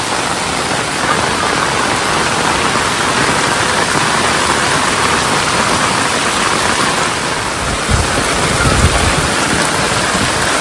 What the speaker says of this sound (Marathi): घनघोर पाऊस आहे, घनघोर.